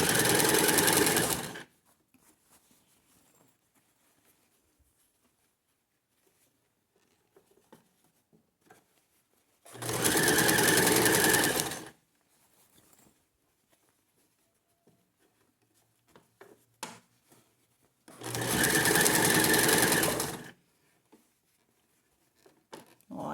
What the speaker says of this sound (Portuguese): a gente vai ajeitando o tecido e costurando